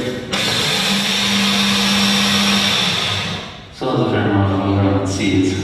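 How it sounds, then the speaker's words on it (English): A blender grinds dried seeds into flour, a loud whirring motor that runs steadily, dips briefly, then surges back with a changed pitch as the load shifts. "So now I just want to get to blend it up and turn the flour."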